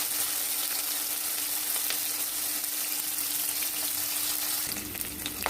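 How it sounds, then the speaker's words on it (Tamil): Onions sizzling steadily in hot oil after mustard seeds have spluttered, a continuous close frying hiss for a chow chow kootu, with a brief stir near the end. "இப்போது கடுகு பொரிஞ்சிச்சு, வெங்காயம் ஆட் பண்ணிட்டேன்."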